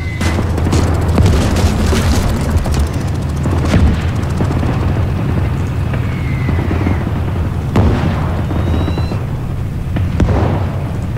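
An 88 mm gun firing in the World War II strategy game Gates of Hell: several heavy booms spaced a few seconds apart over a constant rumble of battle noise.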